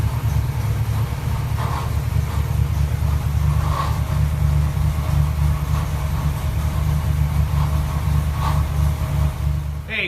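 A Ford 408 stroker V8 fitted with AFR 205 CNC cylinder heads and a bigger camshaft runs on a dyno with a deep, steady, loud rumble. It holds an even idle-like drone throughout, with faint clanks in the background.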